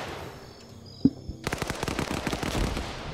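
Gunfire barrage in the Arma 3 military shooter: a lone sharp shot, then a dense, continuous rattle of rapid automatic fire and overlapping shots that keeps going steadily to the end, loud and close.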